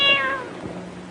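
A cat hidden inside a car gives a single drawn-out meow, close and clear, trailing off into quiet room tone.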